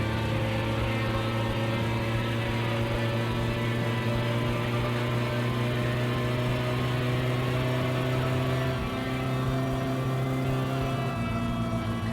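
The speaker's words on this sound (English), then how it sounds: "let's not rag the car too much" A car engine in the video game My Summer Car drones loud and close, revving steadily with a constant low hum and whir, without pause and with no talk over it.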